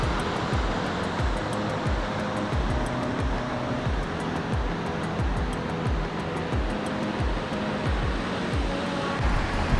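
Ocean waves break on the shore at New Zealand's northernmost point, a steady, loud wash of surf running unbroken throughout with no voices.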